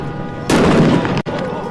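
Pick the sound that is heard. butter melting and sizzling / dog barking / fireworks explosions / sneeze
fireworks explosions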